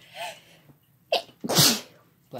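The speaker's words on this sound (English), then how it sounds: "In the meantime, please enjoy us sneezing." Two people sneezing indoors: a soft sneeze near the start, then a sharp one and a loud, forceful sneeze close together, with another beginning at the very end.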